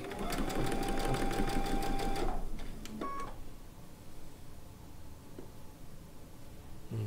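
A sewing machine runs a steady, loud, close whir as it stitches a thick chicken pin cushion with bulky yarn inside. It stops after about two seconds, leaving a few clicks and quiet background noise.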